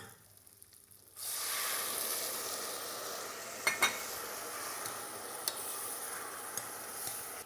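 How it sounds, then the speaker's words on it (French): Chasselas wine from Vully pours into a hot risotto pan and bursts into a loud, steady sizzling hiss after a second of quiet, with a few faint utensil clinks over the bubbling. "nous allons déglacer donc notre risotto avec un vin fribourgeois qui nous vient du Vuilly"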